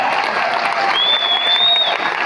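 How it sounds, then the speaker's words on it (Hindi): Crowd at a motivational business gathering breaking into loud, sustained applause, a thick continuous clatter of many hands with a faint whistle rising briefly above it. "ताली लग रहा है? एक बार जोरदार हो गया।"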